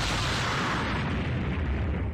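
Anime fight-scene explosions, a loud continuous roaring blast with deep rumbling low end that fills the whole moment without pause.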